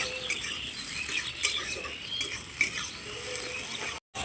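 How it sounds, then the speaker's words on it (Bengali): Chopped vegetables, capsicum and yardlong beans are stirred in a pan, with light scraping and tapping utensil strokes over a gentle sizzle, close and without talk, ending in a brief cut of silence. "সবজিগুলো একটু নাড়াচাড়া করে নেব ভালো করে।"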